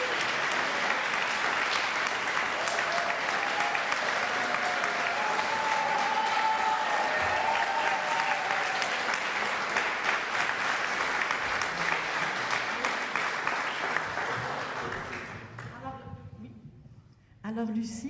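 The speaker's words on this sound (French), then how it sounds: "bonne main d'applaudissement pour ces deux-là" Audience applause at a community event, a dense sustained clapping that fills most of the clip before fading out near the end, where a voice briefly starts to speak.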